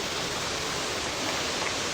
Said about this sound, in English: I do see a waterfall